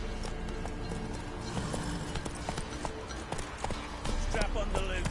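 Hooves of the horse Roach clip-clopping at a trot in The Witcher 3, a rapid steady clatter under a voice speaking.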